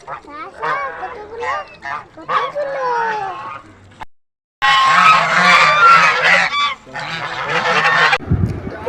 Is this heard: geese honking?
yes